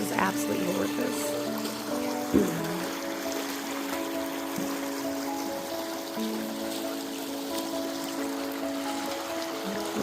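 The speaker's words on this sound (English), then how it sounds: "Love the sounds of water. So relaxing." A clear mountain river flows past meadows in a steady, soft rush of water with a light trickling texture, and a voice speaks briefly over it early on.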